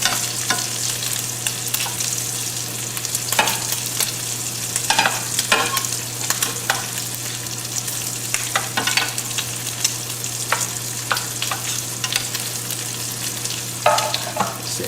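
Lamb chops fry in a pan of garlic-infused butter with a steady close sizzle, broken by scattered crackles and spits and the occasional scrape of a utensil stirring, over a low constant hum.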